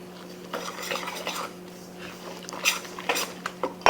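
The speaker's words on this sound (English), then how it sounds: "So I'm going to start just whisking that just a little bit." A whisk stirs milk into cornbread batter in a bowl, making soft, uneven scraping and clinking strokes at close range. A steady hum runs underneath.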